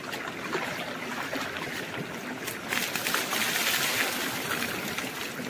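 Cold water is poured from a tub over a person bathing outdoors, giving a steady rushing, splashing wash that swells slightly midway; no talking.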